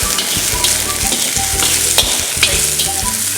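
Onions and spices fry for baingan masala, sizzling loudly and close up in hot oil, with repeated scraping strokes of a stirring spoon against the pan at an even rhythm; no one speaks.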